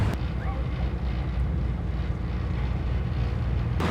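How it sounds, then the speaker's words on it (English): A vehicle ferry crossing to Fraser Island gives a constant loud rumbling engine drone mixed with heavy wind buffeting on the microphone, steady throughout. "loaded onto the ferry, about to head across to Gari, Fraser Island."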